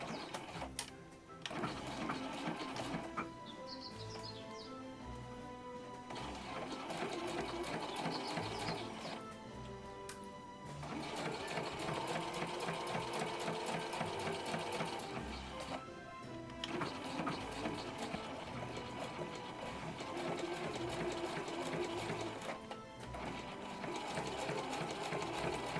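Sewing machine stitching a fabric case for a 500 ml plastic bottle with a 1 cm seam allowance, running close and steady in long bursts separated by short pauses, with no voices.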